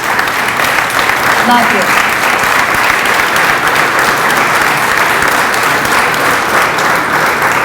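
Audience at a community meeting in a YMCA applauding steadily and loudly throughout, dense continuous clapping with a brief voice heard over it.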